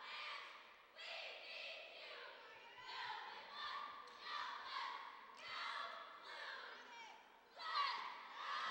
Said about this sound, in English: Crowd's really getting into it with them.